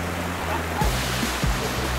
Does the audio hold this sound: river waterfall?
yes